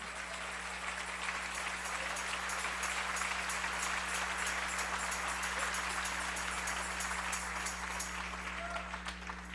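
A church congregation gives a sustained round of applause during a sermon, dense continuous clapping at an even level over a faint steady hum.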